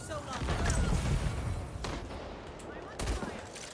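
Sniper rifle shots in the Highguard shooter game ring out amid dense combat noise, with a couple of sharp reports near the middle and end under a speaking voice.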